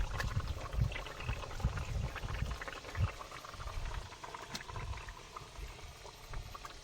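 Curry bubbling and boiling in a pot aboard a fishing boat on a Sundarban river, a continuous close burbling simmer with irregular pops and splashes over low water and engine rumble.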